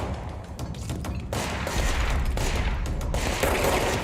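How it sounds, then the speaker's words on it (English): Dense gunfire and heavy grenade blasts from the video game Control roll continuously, loud and close, with booms swelling into a sustained barrage midway. "There's those grenades I was trying to avoid."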